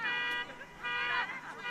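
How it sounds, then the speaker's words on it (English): A car alarm sounds in the background near a sunny parking area at Cornwall Park, its steady electronic tones pulsing with dips in the middle, with faint voices underneath. "you can hear a car alarm going off"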